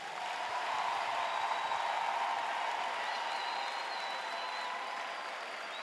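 A church congregation applauding during a French-language sermon, a steady, dense wash of clapping and crowd noise lasting the whole span, with faint voices mixed in.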